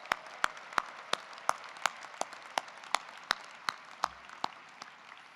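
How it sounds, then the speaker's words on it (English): Sparse, evenly spaced claps from a few hands at a Northeastern University class of 2020 commencement, about fifteen sharp slaps in a steady rhythm, fairly faint with no voices. "give yourselves a huge round of applause"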